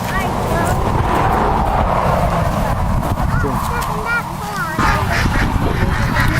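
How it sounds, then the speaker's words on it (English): Geese and ducks honk repeatedly across a mango farm in Nayarit, Mexico, their calls fairly close and overlapping, with people talking throughout and steady outdoor background noise. "we're gonna check out the geese and the ducks"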